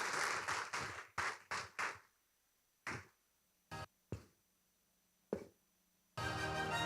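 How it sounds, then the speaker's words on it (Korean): An audience at the North American Korean CBMC convention in Chicago claps in short bursts of applause separated by near silence, then a fuller round of clapping starts at the end. "박수로 우리 환영하겠습니다."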